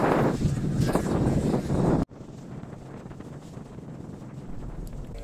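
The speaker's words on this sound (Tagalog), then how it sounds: "malakas yung hangin sa taas ng crane" Strong wind high on a ship's deck crane in the Indian Ocean buffets the microphone in loud roaring gusts, then cuts off abruptly to a quieter, steady windy rush.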